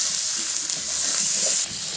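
Pork frying in a pan makes a brief, steady, hissing sizzle close by, with no voices over it.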